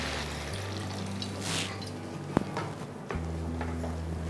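Water is poured into a pan of sautéed vegetables for kurma with a continuous splashing pour against a low steady kitchen hum, followed by a brief clatter and a softer trickle.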